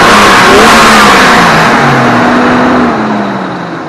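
A Jeep Comanche truck engine revs loudly and close, a sustained throaty roar that holds steady and slowly tapers off toward the end, with no talking.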